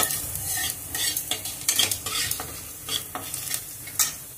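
Chopped garlic, black cumin and dried chilli fry in oil in a wok, a steady close sizzle broken by repeated scraping stirs of a utensil against the metal, with no talk.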